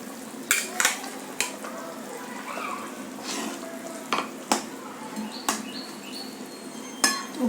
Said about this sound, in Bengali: তো এর মধ্যে এবার আমরা দিয়ে দেব ভেজে রাখা পার্শে মাছ।